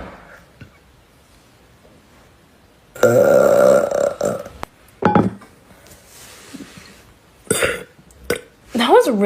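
A woman lets out a loud, airy burp lasting about a second, followed by shorter gulping belches and brief talk as she continues burping.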